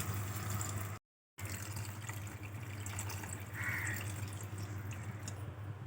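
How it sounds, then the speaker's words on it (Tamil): Strained tamarind water, dissolved for a karamani kuzhambu, trickles and pours steadily into a pot, a continuous soft liquid flow broken by one brief gap and no talk. "இப்போ இதை வந்து வடிகட்டி ஊற்றிக்க போகிறேன்."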